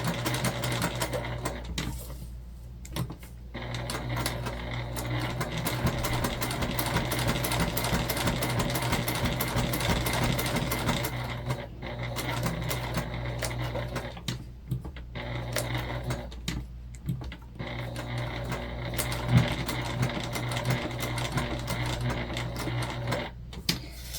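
A sewing machine stitches a waist pack in long, steady runs of rapid mechanical clatter at close range, broken by several short pauses between seams, with no talking.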